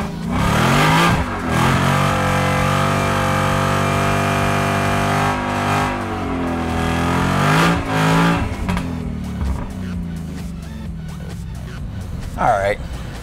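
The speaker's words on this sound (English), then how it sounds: "I gotta do one burnout." A Ford Mustang does a burnout at a SEMA 2016 drifting event, its engine roaring loud and near with rising and falling revs and tire noise, while people talk over it.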